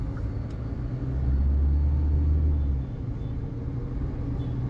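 A 2024 Hyundai Creta facelift diesel automatic engine pulls under throttle, a low steady rumble that swells and holds for a couple of seconds, then eases off as the gearbox slowly shifts, heard from inside the cabin.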